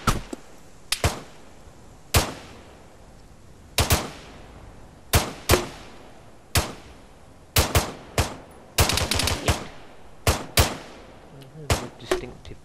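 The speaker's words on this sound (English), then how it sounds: "Distinctive pops of grenades going off there" Gunfire in the Arma 3 military shooter, Tanoa map: a string of sharp, loud individual shots and short bursts, irregularly spaced over about thirteen seconds, with distinctive grenade pops, no voices.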